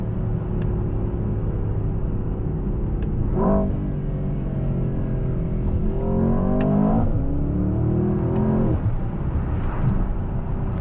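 2024 Mercedes-AMG S63 sedan with its V8 engine accelerating from inside the cabin, a loud continuous drone that climbs in pitch through several gear-shift sweeps, each rev rising and then dropping back.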